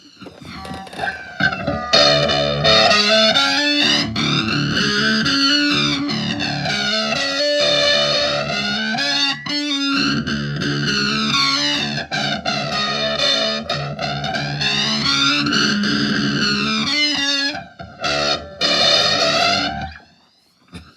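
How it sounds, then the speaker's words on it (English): Electric guitar played through a flanger on a Joyo Gembox budget floor modeller, distorted chords with a sweeping, whooshing jet-like swirl that rises and falls repeatedly, loud and sustained with brief gaps near the end. "Gonna add again modulation, but this time phaser. Or no, flanger."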